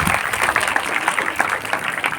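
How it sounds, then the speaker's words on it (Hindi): A school Independence Day ceremony audience gives dense, continuous applause that stays fairly loud and even throughout, with no voices over it. "तालियां इनके लिए।"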